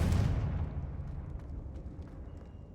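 A Confringo fire spell bursts in Hogwarts Legacy with a heavy booming blast that fades into a rumbling tail, followed by faint scattered crackles.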